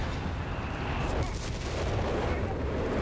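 Artillery barrage in the real-time strategy game Company of Heroes 3 during a 3v3 match, a loud, dense rumble of booming shell impacts rolling continuously, with a sharper burst near the middle.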